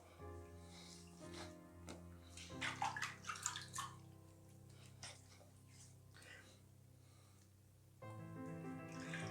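Tap water runs and splashes as a freshly shaved face is rinsed, a steady wash with brief louder splashing bursts partway through, then the flow continuing to the end.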